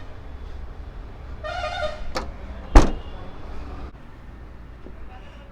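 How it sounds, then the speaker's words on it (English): The boot of a 2020 Kia Seltos Tech-Line is shut with a single close thud, preceded by a faint creak of the lid swinging down, under a low steady background hum. "So let's close the boot."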